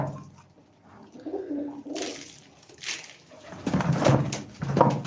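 Pigeons coo in a few soft, low bursts at close range, with a louder flurry near the end and a brief voice in between.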